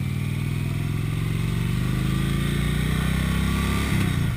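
A 2015 Indian Roadmaster motorcycle engine runs at highway speed, a loud, continuous low throb with steady pulsing, rising slightly near the end, close and alone.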